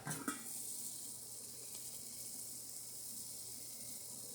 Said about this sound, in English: Can y'all see that water boiling?